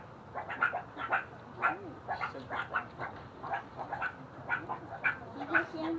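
Meerkats at feeding time give repeated short, high little barks and chirps in an irregular rhythm, close by and fairly clear over a steady background hum; no one speaks.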